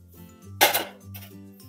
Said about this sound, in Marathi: आता यामध्ये आपल्याला साहित्य मिश्रण करायचं आहे।